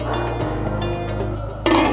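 Onions cooking in oil inside a covered pot give a steady, close sizzle and frying hiss with light lid and pot clinks, growing brighter and louder near the end.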